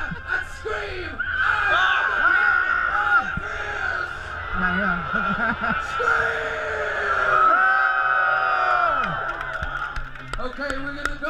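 A large crowd of obstacle race participants screams together in a sustained, loud, chaotic mass of shrieks and yells mixed with laughter, lasting several seconds before tapering off.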